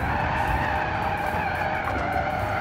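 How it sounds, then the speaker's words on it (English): An off-road car drifts and skids in a video game, with a continuous loud tire screech over a roaring engine that holds steady throughout. "It's got those sick drifts."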